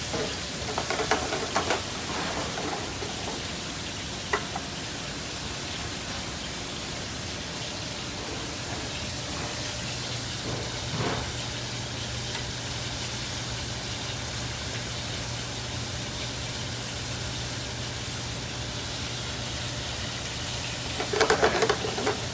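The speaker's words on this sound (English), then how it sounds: "I'm continuing to turn our short ribs, browning them on all sides, and again, getting that real delicious caramel color" Short ribs browning in a hot pan give off a steady, dense sizzle, with occasional tongs scraping and knocking as pieces are turned, no voices.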